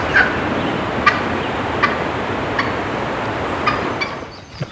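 A wild turkey hen calls in the Tennessee woods during spring hunting, short faint clucks and yelps spaced a second or so apart over a steady hiss of outdoor background.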